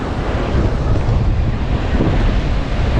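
Sea waves wash steadily onto Gopalpur beach, a continuous broadband surf roar mixed with wind buffeting the microphone, close and fairly loud with no voices.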